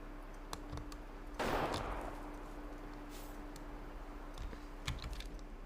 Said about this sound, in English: Okay, so that gunshot came from the left.